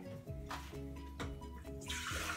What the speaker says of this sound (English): So we're gonna put in 3 cups of water